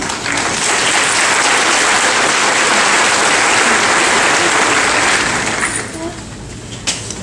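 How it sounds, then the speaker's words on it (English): A middle school graduation audience claps in a loud, sustained burst of applause that fills a large hall, then fades out near the end. "and that is worth round of applause"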